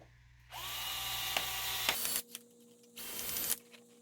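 Whirring mechanical sound with ratcheting clicks as screws are driven into the plastic of a Redcat Everest 10 RC crawler, two loud sustained bursts separated by a short gap, heard close and without voices.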